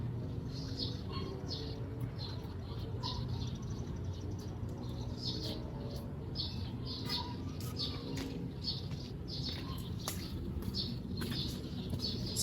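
Small birds chirp and tweet in short, repeated bursts outdoors in a garden, fairly faint and scattered over a low background hum.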